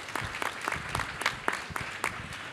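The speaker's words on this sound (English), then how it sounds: "Let's give her a round of applause." An audience at a food insecurity panel claps for a panelist, a short burst of crisp, fairly faint applause with no talk.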